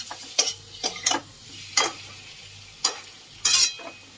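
Potatoes roasting in a pan are stirred in a few sharp, separate scrapes and clanks over a faint low sizzle, each stroke brief and close.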